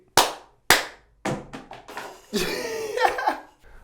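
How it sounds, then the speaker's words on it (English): A few people on a Florida Gulf Coast beach give a short round of claps: two sharp separate claps, then a quick burst of scattered clapping that tapers off, with faint laughter and chatter mixed in. "Give me a little clap."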